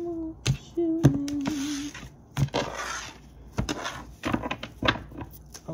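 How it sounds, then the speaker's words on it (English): Tarot cards shuffled by hand, a series of quick papery riffles and soft slaps with small knocks, close and fairly quiet, arriving in short irregular bursts over several seconds. "Give me two more shuffles for Leo."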